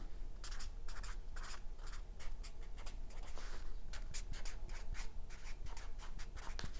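A pen scratches across paper in short, close strokes, a soft steady scribbling with brief pauses between words.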